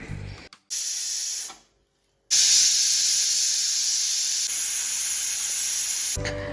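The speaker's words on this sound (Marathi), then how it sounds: "झाकण लावून हे कुकरचे मी तीन ते चार शिट्ट्या काढून घेते आहे" A pressure cooker holding vegetables and water for pav bhaji lets off steam in loud, close hissing blasts. A short burst cuts off into silence before a long, steady whistling rush follows.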